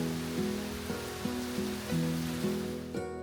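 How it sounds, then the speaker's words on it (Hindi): Steady monsoon rain hisses evenly under a soft, repeating melodic tune, in the hills of Munnar, India. "कभी बारिश"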